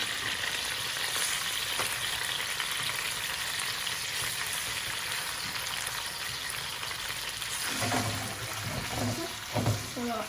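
Fish sizzles steadily in a frying pan, a constant crackling hiss with a few louder bursts of spattering toward the end.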